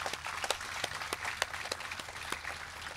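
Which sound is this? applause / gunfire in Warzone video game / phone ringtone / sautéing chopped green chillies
applause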